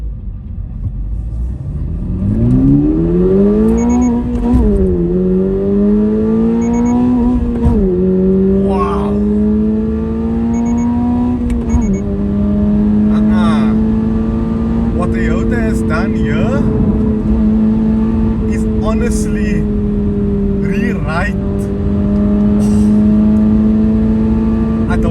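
A Toyota GR86 engine pulls hard in fourth gear, its rising drone climbing in pitch through the revs after a couple of quick gear changes, loud and close from inside the cabin, with someone talking over it.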